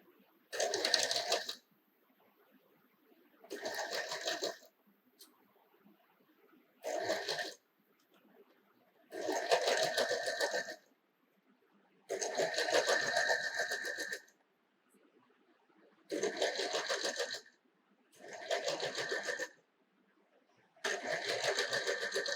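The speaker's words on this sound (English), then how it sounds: "let's take it on the sewing machine and let me show you how it is done" A sewing machine stitches a French seam in repeated bursts of rapid mechanical stitching, each lasting a second or two, separated by short quiet pauses.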